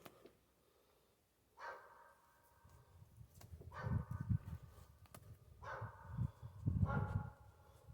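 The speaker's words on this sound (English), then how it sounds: "Sorry about that dog that's barking in the background." A dog barks in the background outdoors while a trapped coyote is being skinned, with several short bursts of barking spread across the stretch at moderate distance, each followed by a brief pause.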